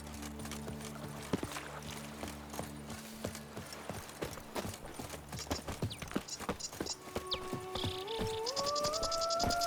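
Roach the horse gallops in The Witcher 3, hooves clip-clopping in a quick, uneven rhythm over game ambience, with rising musical tones joining near the end.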